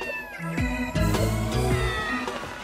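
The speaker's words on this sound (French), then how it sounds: "Une invasion de chats, manifestement." Several cats meow in quick, overlapping succession, loud and close, their high wavering cries stacking up over under three seconds with no pauses between calls.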